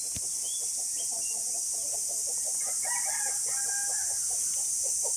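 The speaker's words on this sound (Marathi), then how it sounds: "मल्टी कलरचा कोंबडा खूप छान आहे जबरदस्त आहे कलरफुल आहे" A multicoloured village rooster crows clearly at a chicken market, its call ringing out over constant insect-like background hiss and a few clucks.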